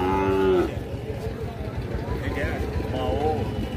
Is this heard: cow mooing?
yes